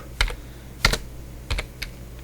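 Keys clatter on a computer keyboard as a networking command is typed: four quick, close taps come in uneven short bursts with quiet gaps between them, and no voice is heard.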